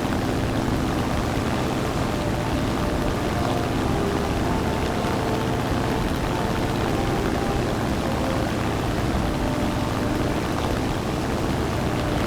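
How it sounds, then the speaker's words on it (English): Steady, dense roar of a propeller aircraft engine at high power during a runway takeoff in the War Thunder video game, unbroken and loud for the whole stretch with no voices. "The plane has reached a high enough speed. Time to get off the runway."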